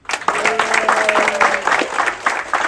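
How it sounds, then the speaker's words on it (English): Steady applause from an audience honouring a crew member during a river cruise crew introduction aboard the Amadeus, dense clapping that holds throughout, with a faint held tone and voices murmuring underneath. "In your applause, Reski"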